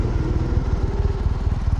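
Kawasaki W800 motorcycle exhaust recorded on a DJI camera, a steady low throbbing rumble with rapid regular pulses, close and loud, slightly muffled, with no voices.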